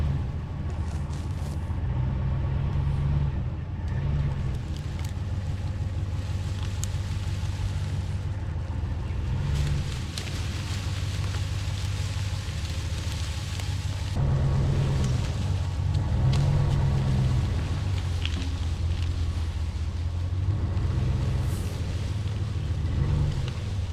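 A RAM 1500 HEMI pickup in 4x4 pulling a heavy log: a deep, steady engine rumble that swells briefly under added throttle, heard from outside amid some wind.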